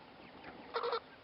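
Farm hens give a short burst of clucking, a brief bright cluster of calls standing out over a quiet outdoor background.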